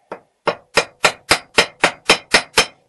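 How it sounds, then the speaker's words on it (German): A hammer strikes a metal door handle part in ten sharp, evenly spaced blows, loud and close, each ringing briefly before the next hit. "und hier mit dem Hammer"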